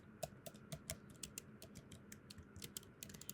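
Rapid keyboard typing on a computer, entering a topic into an n8n form; crisp individual keystrokes in an irregular, quick rhythm, close and fairly quiet, with no voices.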